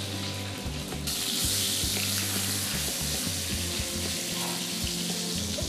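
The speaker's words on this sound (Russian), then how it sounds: "Рыбу не надо долго жарить" Loud, steady sizzling of fish frying in a hot pan, crackling and spitting continuously with a low background hum.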